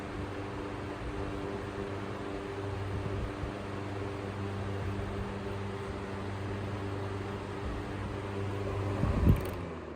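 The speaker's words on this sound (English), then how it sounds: "Very big difference on high speed. This thing moves a lot of air." An Emerson 77646 12-inch electric fan with a capacitor motor runs on high speed, giving a steady, close whooshing rush of air over a low motor hum, with a brief bump near the end.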